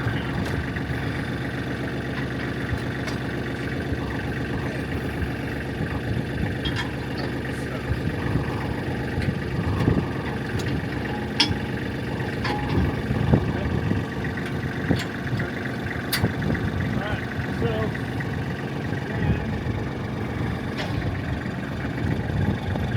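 A Kubota tractor's diesel engine idles steadily, a low continuous rumble with even tone throughout, with occasional clanks and handling noises on top.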